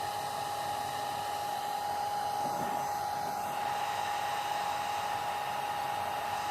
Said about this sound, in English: I'm using a hair dryer again to dry this layer.